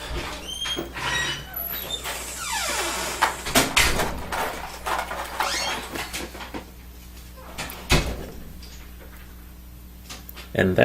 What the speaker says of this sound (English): And that is the sound of one of my roommates returning.